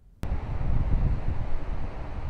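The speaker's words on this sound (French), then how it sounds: "il y avait quand même beaucoup trop de bruit, de vent et de vagues" Strong wind roars over the microphone beside the sea at a beach, with the rush of waves mixed in. A broad, steady, loud blast of noise begins abruptly and continues without a break, and no one speaks.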